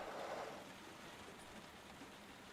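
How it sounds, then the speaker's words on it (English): Rain in the video game Heavy Rain falls as a steady, soft hiss of drops on surfaces, a little stronger at the start and then settling into an even, faint patter with no speech. "It's still raining."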